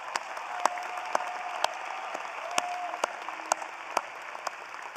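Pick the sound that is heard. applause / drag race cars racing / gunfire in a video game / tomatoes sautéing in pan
applause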